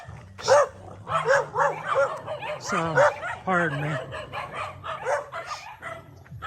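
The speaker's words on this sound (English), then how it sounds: "The dog's coming out." Dog in a Philippine province barking and yipping in short bursts, close by, with someone speaking briefly between the barks.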